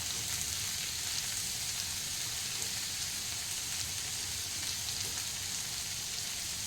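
Ginger fries lightly in a pan of oil, giving a soft, steady crackling sizzle that runs evenly throughout without talk.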